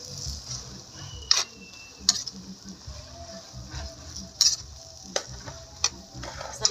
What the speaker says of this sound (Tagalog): And then, haluin lang natin.